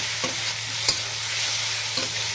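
Whole garam masala, coriander, cumin and dried chillies crackle and sizzle in hot oil for a Bengali rohu fish curry, with a close continuous fry hiss, a low steady hum and a few sharp stirring scrapes.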